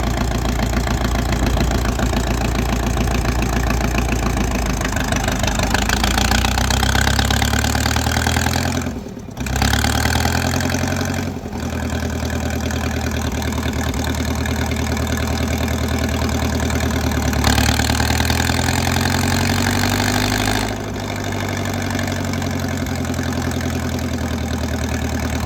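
A 1964 John Deere track loader engine idles steadily and loud up close, with a low throbbing rumble that dips briefly twice and otherwise runs unchanged.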